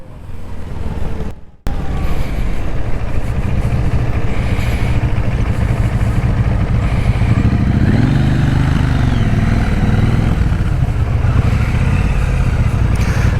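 A motorcycle with its stock exhaust runs loud and close, a continuous engine drone with a rise in revs partway through after a brief cut near the start, and wind rush over it.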